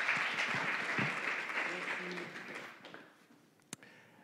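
Audience applause at a French-language conference on artificial intelligence, a dense, steady clatter of many hands that gradually thins and fades, with a few voices mixed in and a single sharp tap near the end.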